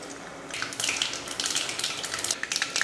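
Fenugreek and mustard seeds splutter in hot oil in a kadai, giving a steady close crackle with scattered sharp pops that grow busier after the first half-second. No voices are heard.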